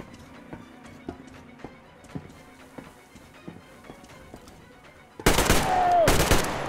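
Metro Exodus combat: soft footsteps clatter for several seconds, then a loud sudden burst of rapid gunfire erupts close up near the end.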